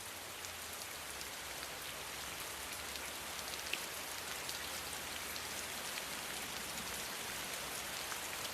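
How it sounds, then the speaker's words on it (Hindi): Heavy outdoor rain pours in a constant, even wash of drops pattering on surfaces, with no voices and no change in intensity from start to finish. "बाहर बहुत बारिश है"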